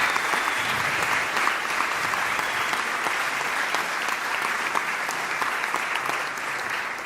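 Audience applause at the closing event of a national choral competition rings out in a full, steady wash of clapping, with a few sharper individual claps standing out, continuing without a break.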